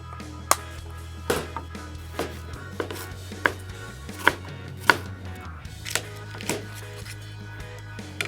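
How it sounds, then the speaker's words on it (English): A knife slicing mushrooms on a cutting board, sharp regular chops about one or two per second, close and distinct over a low steady hum, with no talking. "and slice all of our mushrooms"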